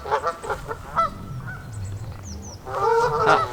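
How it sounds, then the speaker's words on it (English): Geese honking by the water, a string of short nasal honks with several louder, overlapping calls near the end, over a soft outdoor rumble. "These geese are absolutely loving life."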